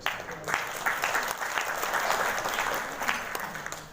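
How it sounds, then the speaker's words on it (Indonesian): An audience at an Indonesian health office event applauds, a dense burst of clapping that rises quickly and holds steady for several seconds before trailing off. "Aplaus untuk Bapak Ibu."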